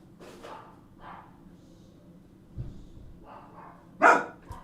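Several dogs in a home crafting workspace let out a few scattered, fairly faint barks and yips, closing with one sharper, louder bark near the end, amid soft thumps and quiet room noise.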